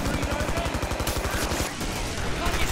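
The stomach gun in Killing Floor fires in a rapid, loud automatic burst of evenly spaced shots for more than a second. A short pause follows, then more gunfire and game noise, with a player's voice talking in places.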